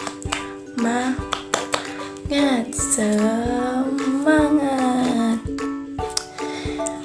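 A class of schoolchildren claps out a rhythmic cheer, with sharp claps in a patterned beat under children's voices chanting along throughout.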